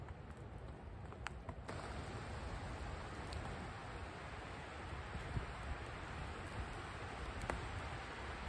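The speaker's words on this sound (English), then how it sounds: "The rain's not too heavy, so shouldn't be too bad" Light rain falls in a forest during a wild camping trip, a soft, continuous hiss of drops on leaves and ground with occasional faint ticks, quiet and even throughout.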